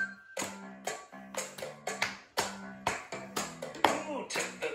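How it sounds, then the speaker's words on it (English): Alternating pattern of hands patting a lap then clapping together, crisp close taps repeating in a steady rhythm at a children's sing-along, with voices faintly present. "they clap their lap and then their hands"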